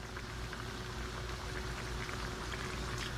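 Liquid sizzles and bubbles steadily in a hot pan as half a cup of cooking wine is poured in for cashew pork, a continuous close hiss with no voices.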